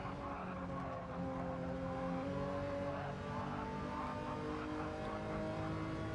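Porsche street car engine running under load in an onboard street car showdown race, a steady harmonic drone with shifting pitch and continuous rumble, close and loud with no talk.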